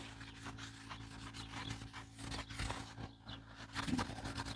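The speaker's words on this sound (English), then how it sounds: "I'm gonna go ahead and clean the pressure plate a little bit. Some brake cleaner as well." Rubbing and scraping on a clutch pressure plate being wiped down with brake cleaner during an H22A Honda Accord stage 3 clutch install, with soft irregular rasping strokes over a steady low hum.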